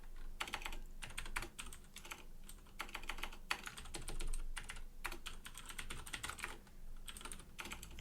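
Code being typed on a computer keyboard: fast, close key clicks in bursts separated by short pauses, quiet and continuous, no voice.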